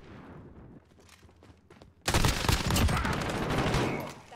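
Gunfire in the video game Call of Duty Modern Warfare, a sustained loud burst of shots that cuts in suddenly and continues dense and rapid, following a quieter stretch with faint voices.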